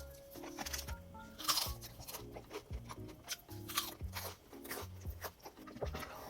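Crunchy fried chicken and a sausage-and-rice-cake skewer are bitten and chewed up close in a series of sharp, crackling crunches with irregular rhythm, and soft background music plays underneath.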